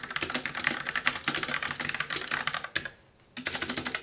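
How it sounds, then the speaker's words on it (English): Glorious modular TKL keyboard with rattly stabilizers being typed on, a quick stream of clacky keystrokes with a brief pause partway, close and crisp, no voices. "The only thing I don't like about it so far is the stabilizer. Very, very rattly."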